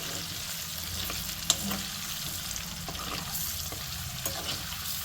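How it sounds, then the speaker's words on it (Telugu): Spices and ingredients for an egg masala frying in a pan, a continuous even hiss of sizzling oil with occasional faint taps of stirring, close and unbroken, without speech. "సో ఇవన్నీ కొంచెం వేయించుకుంటే సరిపోతుంది"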